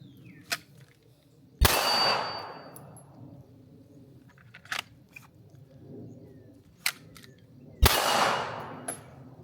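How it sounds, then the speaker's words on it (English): Canik Mete SFX pistol shots at steel plates about 20 yards away, two sharp loud reports with ringing decay, interspersed with fainter distant clangs of rounds striking the steel. "I'm just shooting my steel down here."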